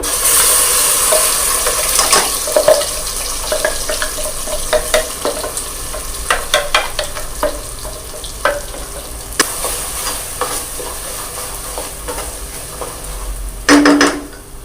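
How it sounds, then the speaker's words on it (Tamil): Ground paste goes into a pan of idli kurma and is stirred. A loud sizzle and frying hiss carry throughout, with scraping stirs and clinks of a spoon against the pan, and a sharp burst of sizzle near the end. No one speaks. "இப்போ நம்ம அரைச்சி வச்சு அந்த விழுதை இதில் சேர்த்துக்கலாம்"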